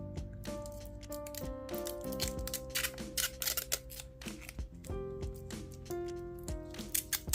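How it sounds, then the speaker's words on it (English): Repeated crinkly peeling and rustling of protective stickers being pulled off a new Zelos Mako GMT watch with a white mosaic mother-of-pearl dial, close and crisp over a steady tonal background. "I always enjoy peeling stickers off a brand new watch."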